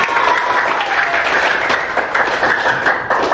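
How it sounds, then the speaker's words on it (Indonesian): Applause and clapping from a classroom of pupils, a dense, steady burst of many hands at close range that holds evenly for a few seconds. "Oke, tepuk tangan untuk kita semua."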